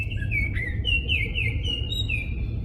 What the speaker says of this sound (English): That bird is so crazy loud.